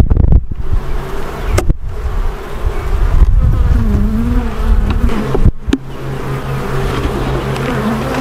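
Honeybees buzz loudly and continuously in an open beehive during an inspection, a dense close drone with rising and falling pitches as individual bees pass near, broken by a few brief handling clicks.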